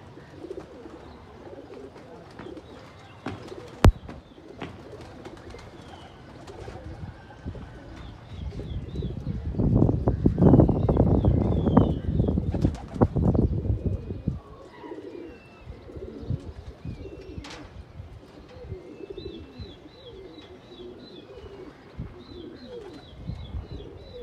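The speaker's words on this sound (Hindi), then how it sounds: "ये और भाई कबूतर खुल चुके हैं।" Desi Gola pigeons cooing and calling outdoors after being released, with a louder burst of flapping wings and flight noise in the middle and soft cooing before and after.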